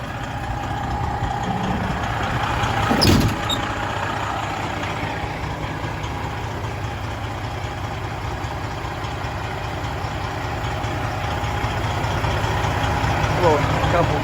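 A 2013 Freightliner Coronado glider kit truck with a Detroit diesel engine idles with a steady low rumble throughout, with one brief clank partway through.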